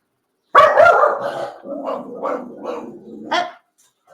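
A dog barks several times in a row, loud and close, with a growly edge to the first burst and shorter yips after.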